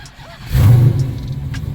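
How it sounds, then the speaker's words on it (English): A 1000+ hp Dodge Hellcat engine cranks and fires up with a sudden loud low rumble, then settles into a steady idle. "Car fired right up."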